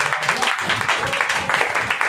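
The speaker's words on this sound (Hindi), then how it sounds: "एक बार अच्छी तारीफ परमेश्वर के लिए ताली बजाकर" A church congregation claps in praise of God, a dense, sustained wash of many hands clapping together, loud and continuous, with a faint voice beneath.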